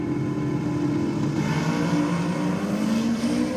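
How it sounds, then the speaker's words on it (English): At a roll race, a Ute and a Hilux accelerate hard, their engines roaring and rising in pitch together as one continuous loud revving drone. "As the Ute takes off well and truly before the Hilux"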